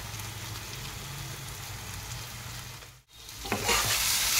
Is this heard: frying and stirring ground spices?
yes